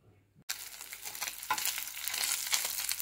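Oil left over from gently frying fish sizzles steadily in a pan, starting abruptly after a brief near-silent moment and building into a dense, crackling hiss with small pops, with no talk over it.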